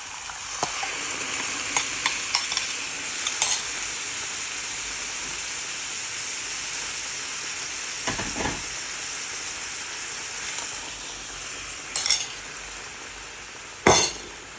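Jaffna-style chicken curry being stirred in a pan with coconut milk, a continuous wet sizzle and hiss broken by spoon scrapes and metallic clinks, with sharper knocks toward the end.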